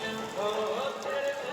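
Rain falls during the night at the Muzaffarpur Durga fair, a steady, even patter across the whole stretch, mixed with faint voices and tonal sounds from the fairground.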